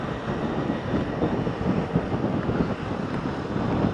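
A metro train runs over an elevated bridge overhead in Nagpur, heard outdoors as a continuous broad rumbling roar mixed with gusty wind noise.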